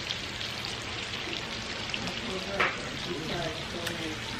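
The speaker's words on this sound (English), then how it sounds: "I'm currently frying fish." Fish fries on a coal stove in a Jamaican home kitchen, a steady close crackling sizzle with faint pops throughout.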